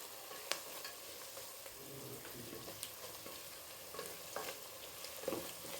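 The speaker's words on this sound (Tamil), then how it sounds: "நல்லா வதங்கி வருது வெங்காயம்." Onions frying in a pan for vegetable rice, a steady soft sizzle with occasional stirring scrapes and light clinks, close and fairly quiet, with no talking.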